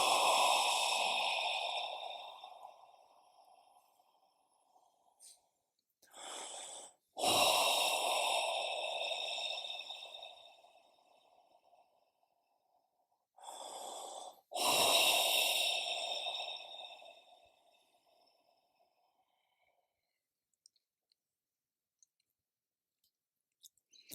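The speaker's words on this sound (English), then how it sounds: "Take 3 deep breaths, sound with relief." Three long, deep breaths exhaled audibly in relief, each a loud, breathy rush that tapers off slowly, separated by pauses of near silence, with a sharp intake before the second and third exhales.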